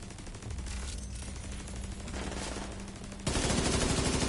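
Rapid sustained turret fire in The Division 2 rattles in a dense continuous stream of loud automatic shots, growing heavier near the end.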